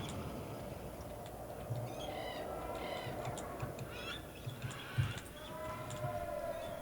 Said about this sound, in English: If you listen to it, you can hear like the birds and like weird animals.